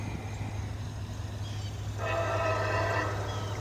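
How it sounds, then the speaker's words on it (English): A northbound CSX mixed manifest freight train approaches head-on with a steady low rumble, then a tonal horn-like blast sounds through the second half, moderately loud and drawing nearer. "we get a northbound CSX here coming straight at you"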